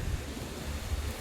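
Strong cyclone wind blowing during a sudden storm with heavy rain in Koothanallur: a steady, dense rushing roar with low rumbling gusts buffeting the microphone and no voices.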